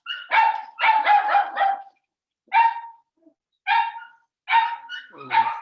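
Dogs bark close by in loud, sharp bursts: a quick run of several barks, then single and paired barks separated by short silences.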